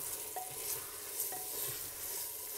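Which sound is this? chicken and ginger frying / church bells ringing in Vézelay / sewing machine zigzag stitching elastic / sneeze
chicken and ginger frying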